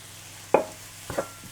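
Cubes of paneer tossed briefly in a hot pan, a few separate soft clatters and scrapes with a faint sizzle, gentle and close with quiet gaps between.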